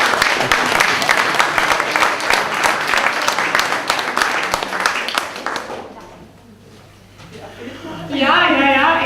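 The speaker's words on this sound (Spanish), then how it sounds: "Un aplauso" An audience at an evening event with a guest applauds the translator, dense clapping for about six seconds that fades to quiet before a voice starts speaking.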